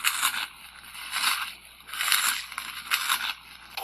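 A voice imitates an alligator munching, making rhythmic crunchy chomping noises in four or five bursts, close and fairly loud, with no other sound between them.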